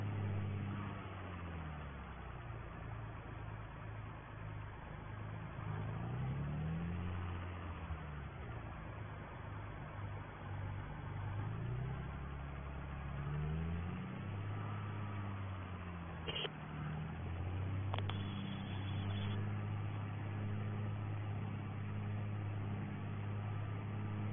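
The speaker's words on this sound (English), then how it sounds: "nice sounding tractor, this John Deere" A John Deere tractor engine runs steadily during silage making on a farm, a near, low droning rumble with slow rises and falls in pitch as it works, with no talking.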